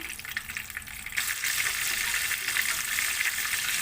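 Dynamite spring rolls, Filipino lumpia, frying in hot oil, a steady dense sizzle that swells louder after the first second and keeps crackling evenly, close and with no talking.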